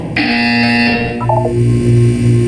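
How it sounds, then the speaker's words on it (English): A loud, harsh electronic buzzer in the video game Portal 2 sounds for about a second, followed by short beeping tones over a steady low hum. "You will hear a buzzer. When you hear the buzzer, look down at the floor."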